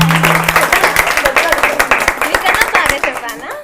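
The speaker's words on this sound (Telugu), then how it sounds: "క్లాప్స్ కొట్టండి" An audience on a television show claps loudly and continuously, with dense, rapid claps, while a voice speaks briefly over the start.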